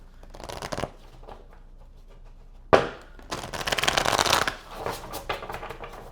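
Tarot cards are shuffled by hand in a few separate bursts: a short riffle, a sharp snap, then a longer flurry of rustling.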